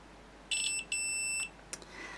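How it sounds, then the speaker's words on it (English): A multimeter in continuity mode beeps as its probe touches the red wire of a small electronics project: a short electronic tone, then a longer one, close, clear and steady, with no talking and brief faint clicks afterward. "if I probe the red connection on this, and we get a beep, we know we've got continuity."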